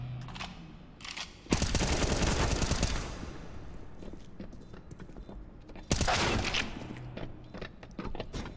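Pistol and AK rifle fire in the Counter-Strike video game, loud rapid bursts of shots in two main volleys with scattered single cracks between them, no talking.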